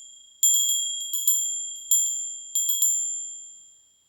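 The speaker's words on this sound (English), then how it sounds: "And in the ending, to bring you back, the same sound of bell will be present." A meditation bell struck about six times in irregular succession. Each strike gives a clear, high, pure ring that fades slowly, and there is silence between them.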